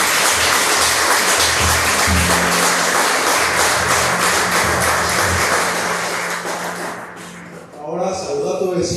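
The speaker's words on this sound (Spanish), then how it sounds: "Dale un aplauso a Dios." A church congregation breaks into loud, sustained applause, with cheering voices mixed in and the clapping thinning out near the end.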